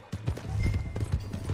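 A horse gallops in Red Dead Redemption 2, its hooves drumming in a quick, steady rhythm close by, loud and clear.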